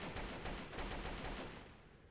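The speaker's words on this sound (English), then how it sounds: "Oh, they're shooting at me." Dense enemy gunfire in the PC game Delta Force Xtreme 2, a continuous rattling burst of shots that stays loud and steady for about two seconds before easing slightly.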